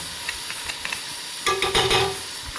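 Mutton pieces browning in a pot for biryani hiss faintly, then a louder burst of sizzling and stirring comes up close about halfway through the brief moment.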